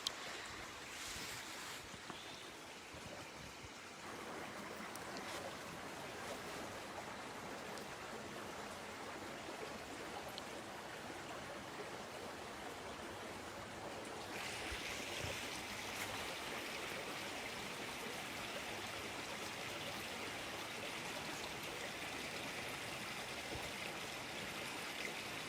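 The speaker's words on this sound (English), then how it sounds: "I wanted to let you guys enjoy the beautiful sounds of the creek here at San Pedro Valley Park." Creek water flowing steadily at San Pedro Valley Park, a continuous close rushing wash that brightens and grows fuller partway through, with no talking.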